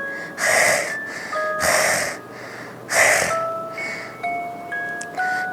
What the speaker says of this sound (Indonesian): Napas yang berat, panjang, seperti sesuatu yang mengendus dan mencari sesuatu.